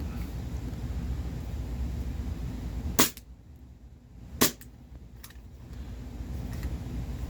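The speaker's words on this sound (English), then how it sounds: "Just kind of show you the gas blowback." An empty gas blowback airgun is dry-fired twice with no BBs, giving two sharp, close cracks about a second and a half apart over a steady background hiss.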